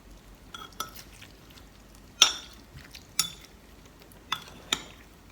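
Spoon stirring lemon and hot water in a bowl or glass for a homemade hair rinse: a few sharp clinks and scrapes spaced irregularly over quiet background, close and fairly soft.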